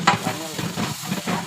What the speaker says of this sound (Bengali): 1 জগ পানি দিয়ে দিলাম